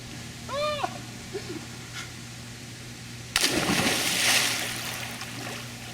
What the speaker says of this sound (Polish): Ja sobie skoczę do wody z tą kamerą przenośną i zobaczymy jak to wyjdzie.